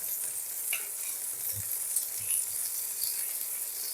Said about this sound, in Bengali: এই ফুলকপিগুলোকে আমি লাল লাল করে ভেজে নেব।